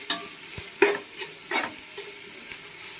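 Onions frying in coconut oil in a pan for chicken curry, with a soft sizzle and a few sharp spatula scrapes and taps at irregular intervals.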